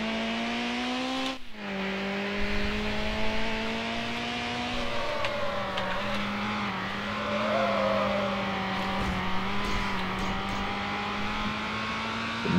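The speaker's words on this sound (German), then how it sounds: "Der Motor kommt mir jetzt aber sehr laut vor." A car engine in the racing video game Need for Speed Hot Pursuit 2 drones loudly and continuously, its pitch rising and dipping gently with throttle during a race, with no talking over it.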